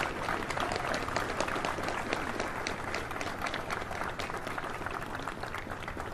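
Steady round of applause from a crowd following a military oath of enlistment ceremony, fairly soft and continuous throughout with no voices over it.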